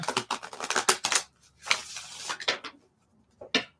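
Tarot cards being shuffled in quick bursts of papery riffling and clacking, several close, bright flurries separated by short pauses, alone with no talk.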